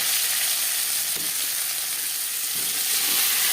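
Chopped onion hits hot oil with panch phoron, the oil left from frying fish for a tilapia and potato curry, giving a loud, steady, close sizzle that crackles evenly throughout with no talking.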